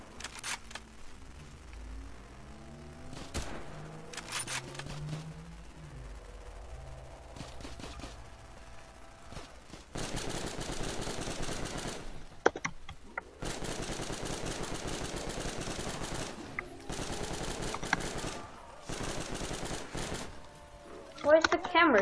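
Rapid automatic gunfire from a weapon in the video game Garry's Mod, coming in several sustained bursts with short pauses between them, with players talking over and between the shots.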